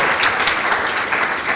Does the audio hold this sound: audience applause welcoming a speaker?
yes